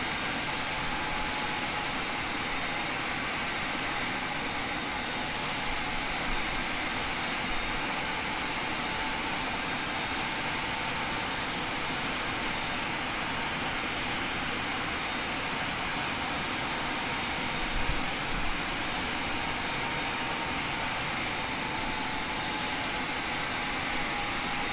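Boeing 737 jet engines roaring on the takeoff roll in X-Plane 10, a loud, continuous broadband rumble and whine that holds steady throughout with no talk.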